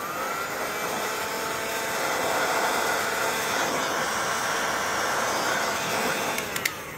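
A hot air tool blows steadily on the headlight projector holders of a Mazda 6 xenon HID headlight, giving an even, close rushing roar that runs the whole time with no talk.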